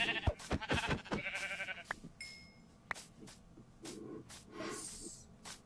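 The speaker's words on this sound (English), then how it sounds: "Hey, some sheep." Sheep bleat repeatedly in a Minecraft game, several short nasal calls clustered at the start and more scattered through the rest, fairly close and clear with no talking over them.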